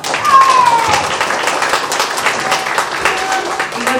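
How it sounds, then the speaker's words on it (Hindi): Indoor audience clapping at a programme in a hotel in Bodh Gaya, steady, dense applause lasting throughout, with a faint tonal whistle-like sound near the start. "जोरदार ताली होनी चाहिए।"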